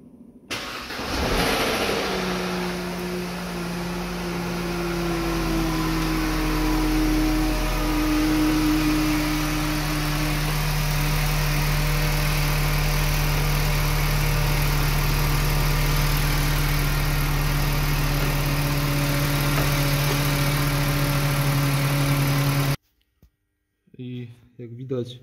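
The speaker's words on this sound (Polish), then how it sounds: "Zobaczymy, jak odpali ten motor." A Mercedes W204 with a 5.5-litre engine cranks and fires, then settles into a long, steady idle with a deep, even drone, close by and loud, before the sound cuts off near the end.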